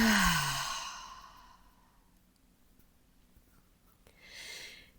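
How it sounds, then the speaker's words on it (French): A long, breathy exhale through the mouth during a guided relaxation breathing exercise, loud and close at first and trailing off, followed by a shorter, softer breath a few seconds later. "Expire par la bouche, relâche bien."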